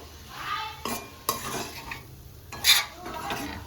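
Boti fry with coriander leaves sizzles over a low flame while a spoon repeatedly scrapes and knocks around the pan, giving a close, clattering stir over a gentle frying hiss.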